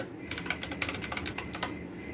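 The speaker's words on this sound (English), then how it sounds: "type fastboot devices." Rapid, steady keystrokes clatter on a computer keyboard as a fastboot command is typed at a command prompt, close and fairly loud, for about two seconds with no talking.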